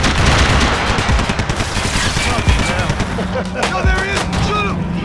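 Dense gunfire in the Max Payne 3 video game, rapid overlapping shots and bursts filling the whole stretch loudly, with shouted voices mixed into the combat.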